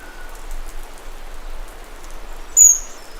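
Monsoon rain falls steadily in the Western Ghats forest, a soft continuous hiss of drops with a faint bird call rising briefly near the end.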